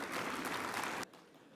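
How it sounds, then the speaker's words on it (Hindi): An audience at a cyber-safety awareness event applauds to welcome a police official, a thick burst of clapping that lasts about a second and then cuts off abruptly to near quiet. "तालियों से जोरदार स्वागत करिए।"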